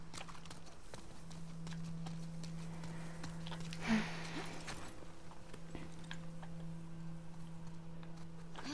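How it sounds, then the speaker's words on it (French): Horse hooves clip-clop at a steady walking pace in The Last of Us Part II, a moderate even patter over a constant low game hum, with a brief louder burst partway through. "On va récupérer le cheval."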